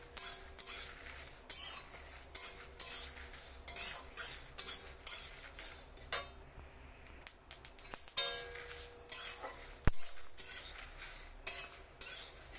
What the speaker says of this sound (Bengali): এক চামচ আমি কালো সরষা দিয়ে দিলাম এবার সব উপকরণগুলো আমি ভালো করে মিশিয়ে নিচ্ছি